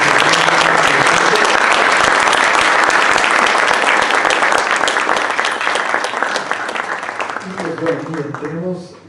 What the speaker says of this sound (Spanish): sí quisiera pedirles un aplauso muy grande por habernos acompañado.